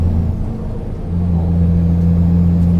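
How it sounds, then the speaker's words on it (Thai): A Hino Mega 320 truck's turbocharged diesel engine, back from repair, holds a loud, steady, close drone that swells slightly partway through with a deep constant hum. "แล้วเสียงหวานแท้โบตัวนี้"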